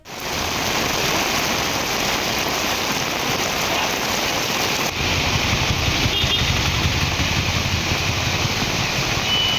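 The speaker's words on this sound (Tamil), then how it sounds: "தஞ்சாவூர் மாவட்டத்தின் பல்வேறு பகுதிகளில் கனமழை கொட்டி தீர்த்து வருகிறது" Heavy rain pours down in Thanjavur district, a dense, loud, continuous hiss of water hitting surfaces throughout, with no voices.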